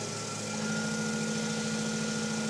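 A wood lathe spins steadily while turning a sycamore and oak pedestal bowl, a constant motor hum with a faint tonal whine that holds even and unbroken from start to finish, with no talking.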